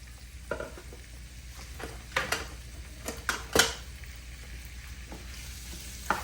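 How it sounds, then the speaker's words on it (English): Seasoning vegetables for Jamaican callaloo rice are sautéed in a pan: a steady low sizzle runs underneath while a utensil scrapes and taps the pan in several sharp, close strikes. "So you just want to saute them."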